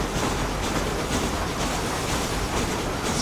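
A steam train in the video game Red Dead Redemption rolls along with a loud, continuous rushing and clattering roar that fills the whole clip without pause.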